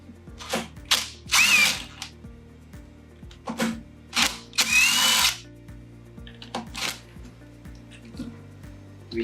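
A power screwdriver fitted with a T25 Torx bit backs screws out of an iGO machine pump in repeated short whirring bursts, several in a row, close up with brief pauses between them.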